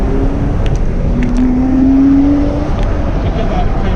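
A Porsche Boxster engine pulling uphill past 3,000 rpm, a loud steady drone with a rising tone in the middle as the car goes by close.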